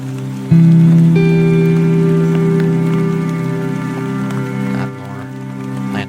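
Rain in the video game The Collage Atlas starts abruptly and patters steadily and loudly over droning tonal music, then eases slightly toward the end.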